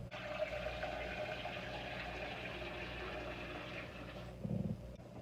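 Tap water runs steadily into a pot being filled for pasta, a continuous splashing gush heard close by. The sound shifts briefly near the end, as if the stream changes or the pot is moved.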